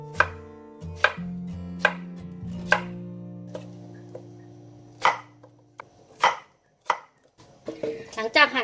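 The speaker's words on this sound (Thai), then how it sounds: "แล้วเรามาหั่นกัน" A knife slices a seeded bitter melon on a cutting board in about nine sharp, close chops at an uneven pace, over a faint low background tone, with no talking.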